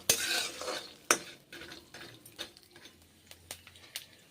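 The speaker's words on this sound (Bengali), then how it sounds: "বড়িগুলো ভেজে নিয়ে অন্য পা অন্য পাত্রে রেখে দেবো বড়ি ভাজাগুলো" Bori lentil dumplings fry in hot oil in a pan, giving a steady soft sizzle broken by sharp clinks and scrapes of a spatula or spoon against the pan. No one speaks.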